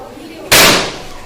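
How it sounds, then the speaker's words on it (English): Sodium metal catches fire with a single sudden loud burst, a sharp broadband pop that decays over about half a second against a background of low room noise. "This sodium metal is catching the fire"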